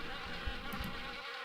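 Wasps buzzing around a nest in an old car in the video game Harvester, a steady droning hum with a couple of soft low thumps, no speech.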